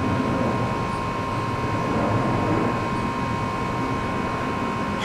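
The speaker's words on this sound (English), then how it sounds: "Because I get interrupted by these airplanes." A steady, loud roar from airplanes flying overhead fills the air without letup, a broad even rumble with a faint high whine running through it.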